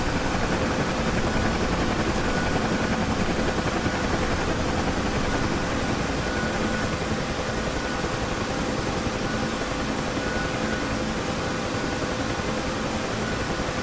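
A helicopter rotor in a flight video game, droning as a steady, loud broadband whir that runs unbroken for the whole stretch with no voices over it.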